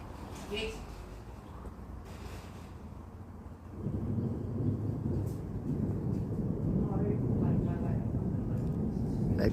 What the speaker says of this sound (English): they got another strike of thunder there.